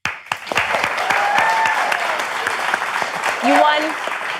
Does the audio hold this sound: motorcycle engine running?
no